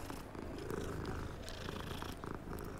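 A cat in the Hogwarts Legacy video game purrs in a steady, soft, continuous rumble, close and unbroken throughout, with no speech.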